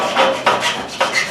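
Hand filing on a sheet metal overflow drain catch pan for a dishwasher, three rough rasping strokes in steady rhythm, close and fairly loud with no talk.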